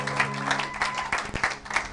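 A church congregation claps rhythmically in unison at a service, the steady beats sounding through the hall behind faint singing or chanting voices.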